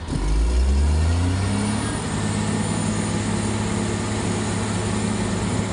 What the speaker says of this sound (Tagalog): Pakinggan niyo po yung makina.